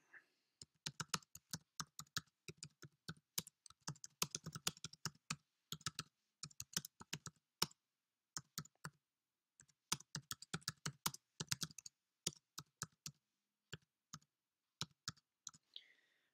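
Computer keyboard being typed on steadily for about sixteen seconds, dense runs of crisp key clicks broken by short pauses, close and fairly quiet with no talking.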